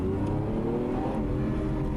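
A recorded car engine revs out, its strong low drone rising and sustained throughout, loud and close with no voices.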